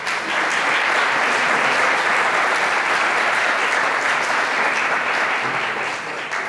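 Sustained audience applause at a Colombian psychology lecture session, dense and steady clapping from a large crowd that holds at full strength throughout and tapers only slightly at the very end.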